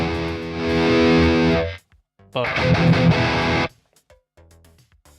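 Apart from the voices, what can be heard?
distorted electric guitar tone from Polychrome DSP plugin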